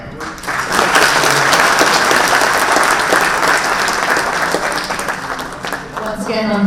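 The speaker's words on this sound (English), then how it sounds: "a big congratulations to Mr. Kamath and a big round of applause, please" An audience gives loud, sustained applause for Mr. Kamath, the Honorary Consul of Morocco to Karnataka, with dense clapping that fades slightly near the end.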